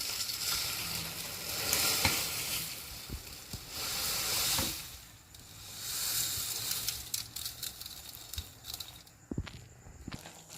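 Vermicelli tipped gradually into boiling water in a pan for semiya upma, a bubbling hiss and sizzle with a few small knocks, fading quieter midway before light clatter returns.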